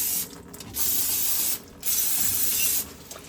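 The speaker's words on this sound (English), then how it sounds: "I'm gonna use some brake clean and spray everything down" Brake cleaner sprayed from an aerosol can onto a Jeep Wrangler JL axle and differential housing after the gear oil is drained, three loud hissing bursts separated by brief pauses, close to the nozzle.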